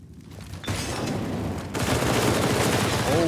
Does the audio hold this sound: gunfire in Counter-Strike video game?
yes